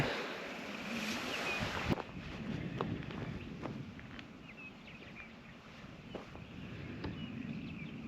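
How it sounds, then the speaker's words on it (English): Gusty wind on a mountaintop at a fire lookout buffets the microphone in low rumbling waves, with scattered faint taps and a sharp click near the start. "Windy up here too."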